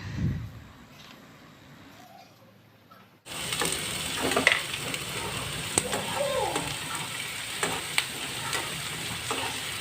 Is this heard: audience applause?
no